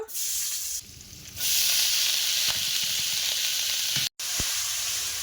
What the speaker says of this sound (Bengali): আর এই তেলের মধ্যে পেঁয়াজ কুচি দিয়ে দেব